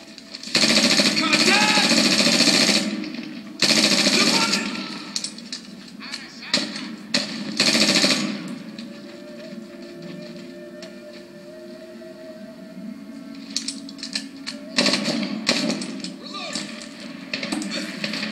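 Fully automatic gunfire in the Medal of Honor video game, loud sustained bursts of rapid shots broken by pauses, with a quieter stretch of lingering ambience in the middle.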